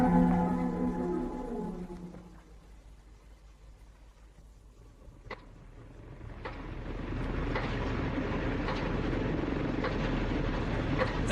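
A helicopter rotor and engine drone in a sci-fi audio drama: a low steady rumble that fades down, then swells back louder and nearer, with faint tonal hums at the start.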